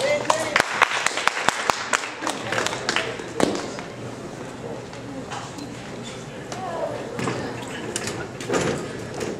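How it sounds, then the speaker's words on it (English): Scattered, uneven clapping from a small open-mic crowd for the next performer, a few sharp close claps early then thinning out, with voices talking underneath. "If you please give him a round of applause."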